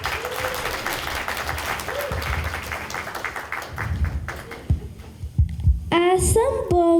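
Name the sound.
audience applause at a concert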